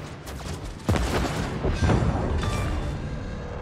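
Naval guns firing in World of Warships, a couple of sharp booming salvos over a steady rumble of game ambience, moderately loud, with no talk over them.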